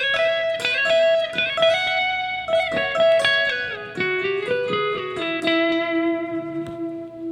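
Closing guitar solo of a song played on electric guitar with effects: a flurry of quick picked and bent notes, then lower sustained notes ringing out, clear and close with no talk.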